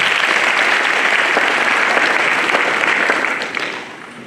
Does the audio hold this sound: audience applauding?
yes